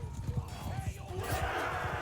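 Rapid rhythmic hoofbeats of a galloping horse in Mount & Blade II: Bannerlord, with a neigh or whinny, heard close under a talking voice and game ambience.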